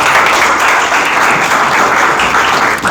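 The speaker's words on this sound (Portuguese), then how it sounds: "Uma salva de palmas," Audience applause during a class on revelation and faith, a dense, steady wash of many hands clapping at close range, loud and continuous throughout with no talk.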